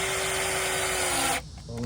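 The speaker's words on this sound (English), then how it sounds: "I like to drill it in a little bit past flush." Power drill driving screws into a wooden pullout drawer build for a Toyota 4Runner, a steady whirring motor that runs continuously then cuts off near the end, close and fairly loud with no talking.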